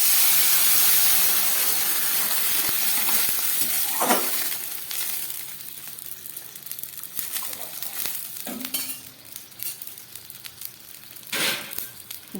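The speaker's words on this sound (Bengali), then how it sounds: "তার জন্য আমি কড়ার মধ্যে চাল ডালটাকে একটু ভেজে হাফ সিদ্ধ করে নিচ্ছি।" Rice and dal fry in oil in a wok (kadai), a steady sizzle broken by sharp hissing bursts of steam as water is added, with occasional stirring scrapes.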